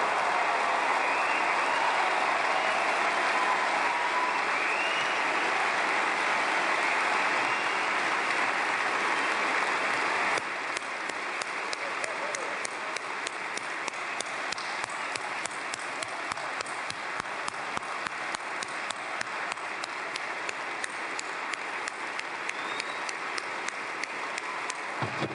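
An audience of thousands applauds United States representatives, a dense roar of clapping sustained for about ten seconds, then settling into a thinner, rhythmic patter of hands that continues to the end.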